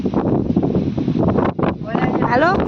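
Strong wind buffets the microphone in a street during a cyclone with rain in Jetpur, a loud rumbling gusty roar with voices talking beneath it.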